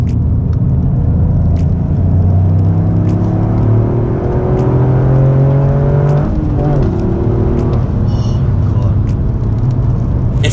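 A Toyota GR Yaris in track mode on the Sepang circuit, heard from inside the cabin as a loud, continuous engine drone that climbs in pitch through the gears, with small clicks over it and talking from time to time.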